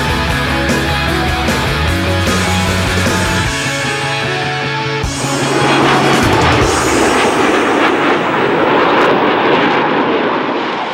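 MiG-29 fighter jet flying solo aerobatics at an air show, a loud continuous jet engine roar that swells and rumbles throughout, with music-like tonal layers in the first half.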